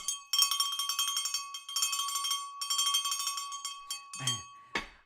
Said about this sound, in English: Who doesn't love a little more cowbell?